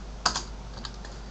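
Keys clack on a computer keyboard, one sharp near press followed by a couple of softer taps, sounding alone over a low background hum.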